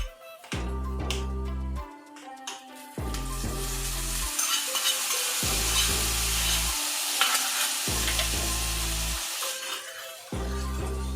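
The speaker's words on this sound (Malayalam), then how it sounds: "തേങ്ങാക്കൊത്തെല്ലാം നന്നായി ചുവന്ന് തുടങ്ങിയിട്ടുണ്ട്." Coconut pieces frying in a pan for jackfruit payasam, a steady sizzle broken by repeated loud low stirring scrapes in an uneven rhythm, close up with no talking.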